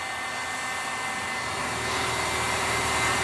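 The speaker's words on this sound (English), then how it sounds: "The heat gun's really blowing out some heat at this point." A heat gun blows hot air onto a motor coupler for an electric conversion, giving a steady, loud, broadband rushing hiss that holds throughout and swells slightly near the end.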